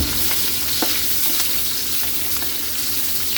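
Ginger, garlic and onion sauté in a hot pan for Filipino white adobo, giving a steady, close, loud sizzle and crackle throughout with no talking.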